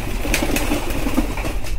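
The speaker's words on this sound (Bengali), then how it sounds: "এই ঘরে দেখতে পারবেন আমার কবুতরের দুইটা বাচ্চা আছে" Pigeons in a loft with two chicks make soft, repeated cooing notes close by over a steady background hum.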